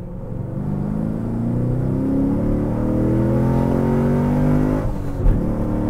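A 2011 Chevrolet Camaro SS V8 engine revving, a loud, deep, continuous rumble with rising and falling pitch and a brief bump near the end, heard alone.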